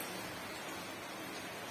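Steady rain falls outside under a dark, overcast sky, a soft, even hiss of dense drops with no pauses and no voices, fairly faint throughout.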